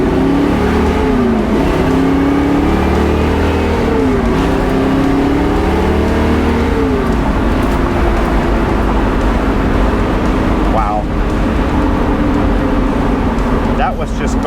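A ground-up restored 1969 Pontiac Firebird with a 400 engine accelerating, its steady close engine drone climbing in pitch through repeated rising sweeps as it pulls through the gears, with a person talking over it.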